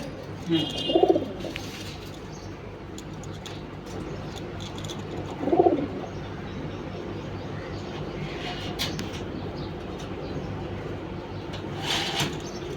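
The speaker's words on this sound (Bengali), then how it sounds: "তো আমরা চার জোড়া কবুতর দেখাইলাম" Pigeons in a home loft coo in two distinct low, throaty bursts, close by, over a quiet background hum with faint chirps and rustles.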